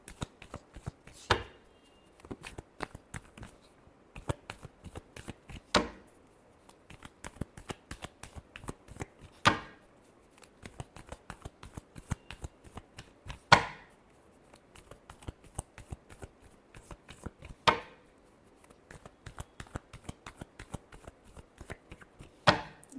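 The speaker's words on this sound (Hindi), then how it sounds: "last shuffle" Tarot cards are shuffled by hand close up in a quiet room: rapid, soft riffling taps with sharper snaps every few seconds, repeated in steady cycles.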